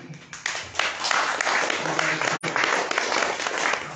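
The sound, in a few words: audience clapping at religious lecture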